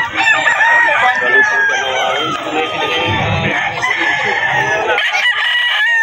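Roosters crow loudly and repeatedly among clucking chickens at the Bocaue pet market, overlapping calls filling a busy close soundscape with voices talking underneath.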